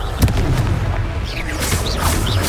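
A Confringo explosion spell goes off in the Hogwarts Legacy video game as a deep, loud boom followed by a rumbling, crackling tail amid game effects.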